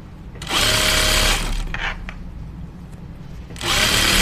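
A home sewing machine runs along the matched hems of slacks in two fast bursts of loud whirring, separated by a quieter pause with small handling noises.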